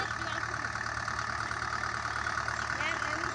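A tractor pulls a rotavator through a small field in low second gear, its engine a steady, loud, continuous drone with a chugging knock and a faint whine, and a voice talking faintly beneath it.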